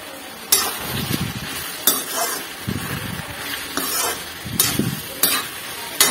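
Sabudana stirred with cooked potato and tomato in a pan: repeated scraping strokes of a spoon against metal over a soft background sizzle, close and clear, with no talking.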